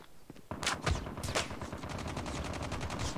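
Automatic gunfire in the Call of Duty Mobile video game opens after a brief pause with a couple of sharp cracks, then settles into a steady, fast stream of shots that stays loud to the end.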